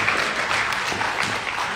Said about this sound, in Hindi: तालियां बजाओ यार, बहुत बड़ी।